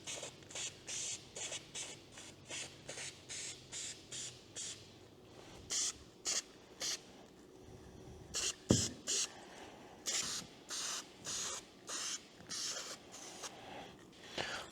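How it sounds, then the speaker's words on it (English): Rattle can of black spray paint hissing in a long run of short bursts, each spritz a second or so, coating a mirror mount from a 1964 Jeep CJ5 up close, with faint handling noises between passes. "we're just going to hit it with some rattle can black here"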